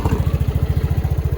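Motorcycle engine idling steadily after a fresh oil change, a close, even low putter of rapid regular firing pulses with no voices.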